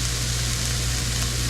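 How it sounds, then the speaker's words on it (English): Ground beef and onion sizzle steadily in olive oil in a hot pan, a loud, continuous frying hiss filling the short moment at close range with no talking. "Want to hear that sizzle."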